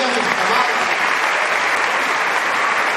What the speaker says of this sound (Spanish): Den un aplauso grande a María nuestra Madre